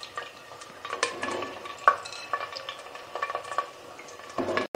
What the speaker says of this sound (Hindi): 5 मिनट से मैं इसको भून रही हूँ लहसुन अदरक के साथ जो आलूओं को